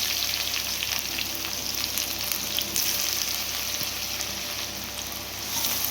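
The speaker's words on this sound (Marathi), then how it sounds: "कांदा लाल होईस्तोवर आपल्याला परतायचा आहे" Chopped onion sautéing in hot oil with crackled mustard seeds and cumin, a steady, dense sizzle throughout with faint stirring scrapes, close and continuous with no talking.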